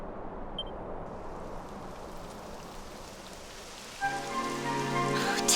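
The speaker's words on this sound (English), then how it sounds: "It would have to go and start raining, wouldn't it?" Rain falling in the video game Dragon Quest XI S, a steady soft hiss of rainfall, with a faint musical tone and a brief beep entering near the end.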